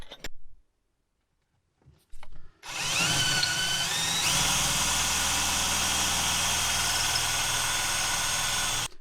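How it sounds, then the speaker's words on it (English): A power drill bores a hole through metal for a marine switch panel in a VW T4 van. After a few short bursts, it settles into a loud, steady, whining grind close up that holds to the end. "so we'll just quickly drill a hole of metal to get that bit through"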